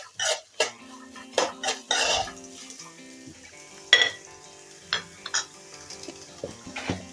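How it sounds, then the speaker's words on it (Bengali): Mixed vegetables frying on a low flame for a home-style veg dal, with soft sizzling under repeated scrapes and clinks of a spoon stirring in the pan, no talking. "এবার সবগুলো সবজি লো ফ্লেমে ভাজতে থাকবো।"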